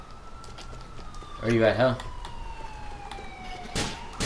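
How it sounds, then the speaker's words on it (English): Ambulance siren in GTA IV, a falling wail sweeping steadily downward in the background beneath a louder burst of talk and game noise. "He's in an ambulance, too."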